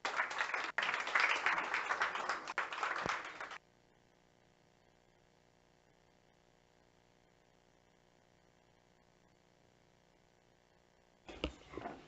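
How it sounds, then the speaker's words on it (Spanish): Audience applause at a 2019 public health debate session fills the first few seconds with steady, dense clapping. A faint electrical hum follows, and a brief burst of clapping returns at the very end. "Doble aplauso"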